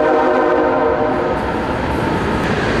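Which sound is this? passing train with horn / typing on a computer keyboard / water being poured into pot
passing train with horn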